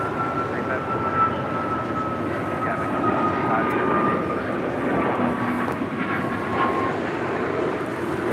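Steady roar and whine of airliner jet engines at LAX, including an American Boeing 777 taxiing for departure on the south side, a continuous loud drone with a thin tonal whistle running throughout, under faint radio chatter.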